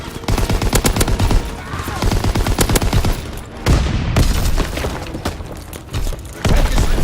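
In Call of Duty WWII, rapid machine-gun bursts and rifle fire hit infantry near a tank, loud and continuous with booming thuds and short pauses between volleys.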